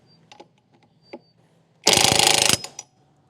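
A ratchet tightens a clutch bell part on a Honda PCX 160 scooter, a single loud rapid ratcheting burst lasting under a second, preceded and followed by a few small metallic clicks and taps, close up.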